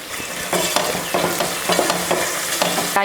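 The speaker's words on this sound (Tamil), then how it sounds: "வெள்ளைப்பூண்டும் நல்லா வதங்கிருச்சு" Garlic and onions sauté in a pan for a Tamil onion kulambu. A close, continuous sizzle is broken by rhythmic spatula scrapes and stirring strokes, with no speech.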